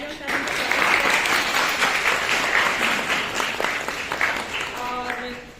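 Students and staff at a college World AIDS Day awareness program clap for the principal, a continuous wash of applause that swells early and carries on at an even level, with a voice briefly audible near the end.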